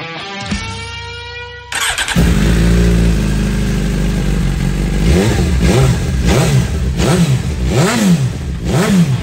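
A 2015 Suzuki GSX-R1000 MotoGP-edition motorcycle cranks on its starter and catches, then idles loudly close by before several sharp throttle blips rise and fall in quick succession.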